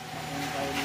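Steady engine running with a continuous low hum and harmonic drone, a rough mechanical knocking rattle underneath, close and constant.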